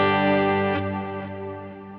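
A sustained, fading electric guitar chord through an always-on overdrive pedal with reverb and delay, heard alone with a thick, distorted ring and no talking.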